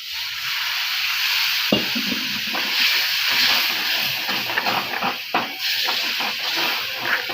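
Water poured onto sizzling masala for a fish curry, giving a loud, broad steamy hiss with crackling pops that carries on throughout.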